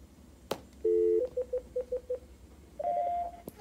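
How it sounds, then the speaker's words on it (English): Keypad tones on a VoIP desk phone as the intercom code star 80 is dialed: a longer opening tone, then a quick run of short beeps, and after a pause another tone with a few more beeps, clear and close with small clicks around them. "you saw the intercom key, which was star 80, and then you put your extension."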